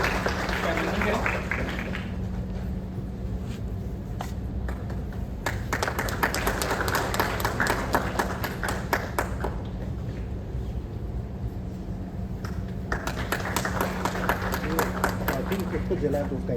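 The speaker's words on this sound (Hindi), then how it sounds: "आप जोरदार तालियों से स्वागत करें।" An audience at a physiotherapy department yoga workshop applauds to welcome a guest, with bursts of clapping that rise and fall in several waves under a steady low hum and background chatter.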